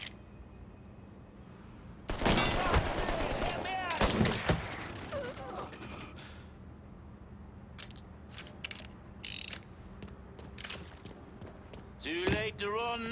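Gunfire in the Mafia III video game: a few sharp bursts of shots around two to four seconds in, then scattered clicks and impacts, with game voices speaking amid the action.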